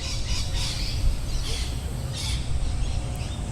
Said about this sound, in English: it's hearing the noises of the birds, but not identifying that as a bird